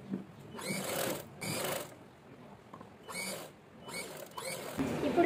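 A sewing machine stitches the neckline of a boat-neck long frock with lining cloth laid on the right side, running in several separate bursts of close, steady mechanical whirring with short pauses between them.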